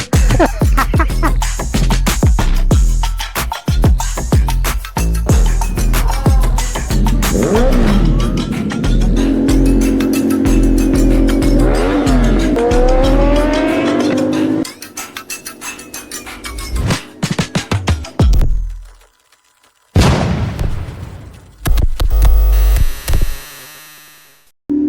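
An NK450 motorcycle engine roars loudly and close during a breakfast ride, revving up and down through gears with sweeping pitch, then cutting out briefly before starting again with sharp bursts.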